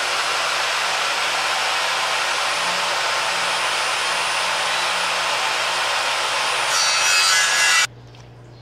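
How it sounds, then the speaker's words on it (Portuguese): A harsh, continuous electric drill whine grinds on steadily at close range, then cuts off abruptly, leaving a low hum. "Meu esposo com a furadeira fazendo barulho"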